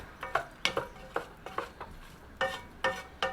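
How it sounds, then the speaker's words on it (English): Baked beans being stirred in a Dutch oven over a pit, with a series of about eight scraping, clanking utensil strokes against the pot at a steady, uneven rhythm, close and moderately loud. "Stir this all up."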